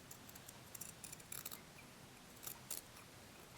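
Scissors snip through fabric near a sleeve seam during garment sewing, giving a few faint, quick blade clicks in short bursts over a quiet room background.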